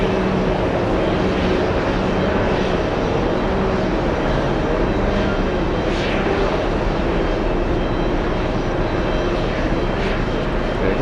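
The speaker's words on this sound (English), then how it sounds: "You hear the engine of the tug?" Airport pushback tug engine working to push a plane back at JFK, a loud, continuous outdoor engine roar that stays steady and unbroken throughout.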